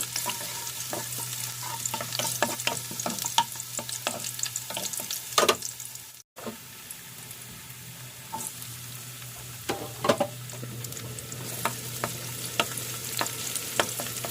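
Garlic and ginger sauté in a pan with a constant close sizzle. A spoon stirs and scrapes them, making irregular clinks and taps, and the sound cuts out briefly partway through.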